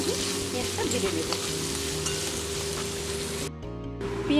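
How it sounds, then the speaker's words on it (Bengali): Thinly sliced large onion with slit green chillies frying in hot oil for a Bengali kachki fish dish, a dense, steady sizzle with faint stirring scrapes that briefly dips near the end. "ভালো করে আমি পেঁয়াজটা ভেজে নেব"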